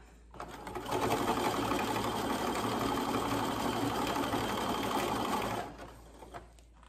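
A sewing machine runs a zigzag stitch along an elastic hem, holding one steady, fast, close whirr for about five seconds before stopping.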